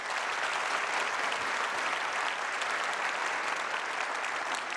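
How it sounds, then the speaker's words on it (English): Steady applause from an audience gathered for a district training event, dense and continuous for the whole stretch with no speech over it. "would you give them a hand clap of praise?"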